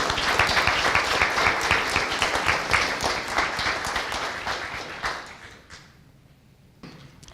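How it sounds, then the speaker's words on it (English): Audience at a First Friday gathering at The Cedars giving a round of applause, a dense wash of many hands clapping that holds steady for about five seconds, then tapers off into a few scattered claps. "give a fresh round of applause for Leighton and Aysia"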